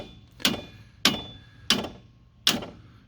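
A hammer strikes a strut bolt while front struts are changed on an early-2000s Pontiac Grand Am, four sharp metallic blows landing about every 0.6 seconds, each ringing briefly before fading.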